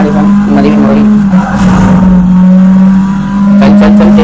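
Racing car engine in the Need for Speed video game, a loud sustained steady drone with brief tyre squeals, under excited talk from a player.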